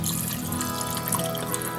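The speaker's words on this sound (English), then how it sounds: "Add a can of water to it there." Water from a can pours steadily into condensed soup in a pot, a continuous close splashing and trickling wash that stays even throughout, with no talking.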